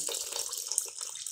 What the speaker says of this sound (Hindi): 1 लीटर पानी डाल रहे हैं और अच्छे से घोल लेंगे।